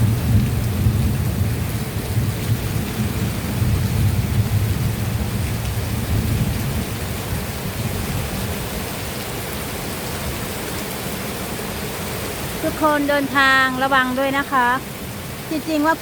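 Heavy rain pours steadily with low rumbles of thunder, loudest early on, while a voice briefly talks near the end.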